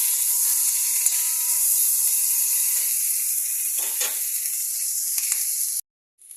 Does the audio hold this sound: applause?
no